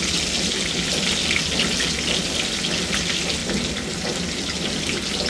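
Slit green chilies, curry leaves and chana dal fry in oil in a pan over a low flame, a close, constant crackling sizzle with no voices.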